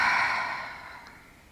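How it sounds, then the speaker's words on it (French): A single long, deep breath is let out through the mouth during a gentle yoga session, a soft breathy sigh that starts fairly loud and fades away over about a second and a half. "Inspirez profondément et expirez par la bouche en fermant les yeux."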